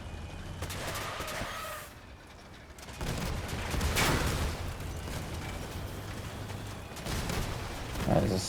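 The Trombone weapon fires in the Crossout vehicle combat game: heavy booming blasts swell over a dense rumble of battle noise and engines, and a voice comments briefly near the end.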